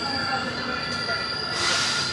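Vivek Express train at Ongole railway station, a sustained high metallic wheel squeal under a steady rolling rumble, loud and close, with no voices.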